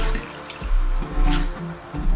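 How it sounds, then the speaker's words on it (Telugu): Water trickles and splashes in small spurts while a thick jowar idli batter is stirred, with soft wet slaps and mixing thumps close by. "ఇట్లా కొంచెం వాటర్ వేసుకుంటూ కలుపుకొని చూసుకుంటాం"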